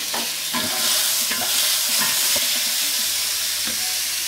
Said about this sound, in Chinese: 爆香以后再把海鲜加进去炒